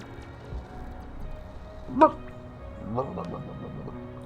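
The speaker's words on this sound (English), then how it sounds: "Good dog." A dog in the video game Paradigm gives a short yip with a whimpering edge, fairly faint beneath low background sound, followed a moment later by a quieter second whine.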